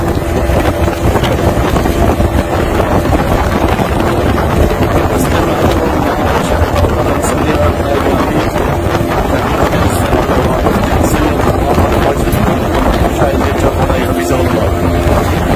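A speedboat runs from Sunamganj across flood-stricken waters with a constant loud engine roar and heavy wind buffeting the microphone, unbroken throughout.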